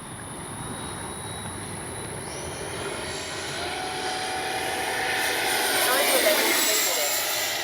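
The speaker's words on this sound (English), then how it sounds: "Oh, I love the sound this F-86 makes." An FMS 80mm F-86 electric ducted-fan RC jet flies by outdoors under a clear sky, its smooth whooshing whine swelling gradually as it passes, fairly distant and steady throughout.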